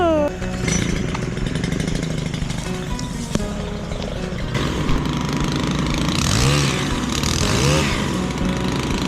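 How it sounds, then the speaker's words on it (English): A chainsaw runs continuously during land clearing for trails, its loud buzzing engine revving up and down close by, with a brief voice heard under the noise. "I gotta turn this chainsaw on."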